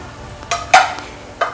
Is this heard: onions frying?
yes